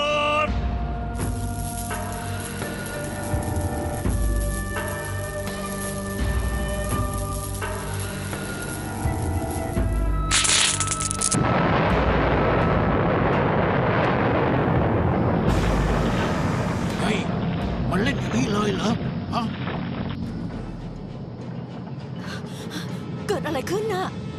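Music plays, then gives way to a loud, sustained rumbling roar of explosions in the Thai animated series Khan Kluay that continues to the end.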